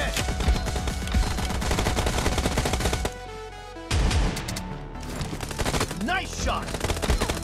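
Rapid bursts of gunfire from PUBG Mobile team deathmatch with an S686 shotgun, dense and loud over busy game music, with a brief lull midway before the shots resume.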